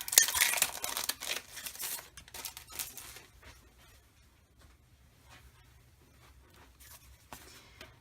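Crinkling and tearing of a plastic pack of Gossamer Blue kit label stickers being opened by hand, close and crisp at first, then sparse rustles and taps trailing off.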